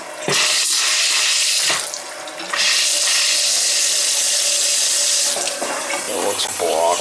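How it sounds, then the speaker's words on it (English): Water rushes steadily into an electric water heater at a summer cottage, a loud continuous hiss of flow with a brief dip partway through, close by and with no voices. "Gotta get fill the electric water heater up with water before you turn the power on."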